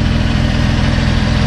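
A Saturn car engine idles steadily while warming up after being started, giving a constant, close, even rumble with no breaks and no voices.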